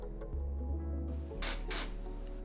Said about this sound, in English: I applied the glue carefully one layer at a time and gave it a little zoosh with some activator